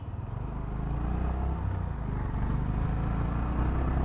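A Honda H'ness CB350 motorcycle rides along after a paid service, its engine giving a steady low thumping drone under wind rush, close and continuous, with no speech.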